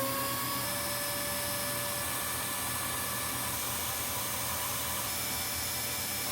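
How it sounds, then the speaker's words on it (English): A large vacuum cleaner runs steadily and loudly, drawing air out of a packing compression bag, with a constant motor drone and airy hiss and no talking. "giving it another shot with the big vacuum"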